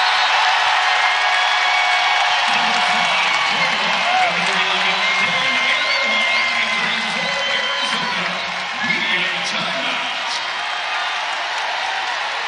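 A basketball arena crowd in an Arizona versus North Carolina game roars and applauds in a sustained wash of cheering after a blocked shot, while a commentator talks over it.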